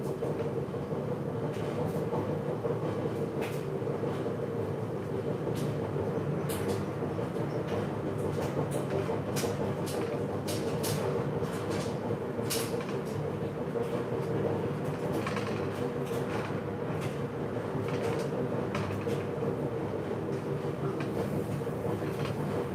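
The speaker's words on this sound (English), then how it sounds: "Sorry if my dryer is loud." A steady, continuous mechanical rumble with a low tumbling drone and occasional faint clicks and knocks, running the whole time without any voices.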